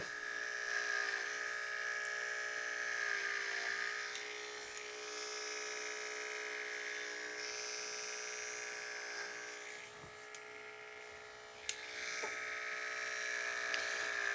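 Electric hair clipper buzzing steadily through a fade haircut, a close, continuous hum with slight dips as the blade moves slowly around the head.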